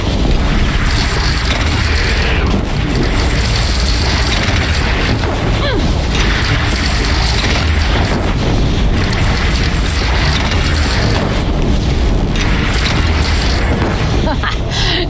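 Cannon fire during a bandit clan fight in Horizon Zero Dawn, a dense, continuous wall of loud booming battle noise with explosions and crashes layered throughout, and a voice shouting over it.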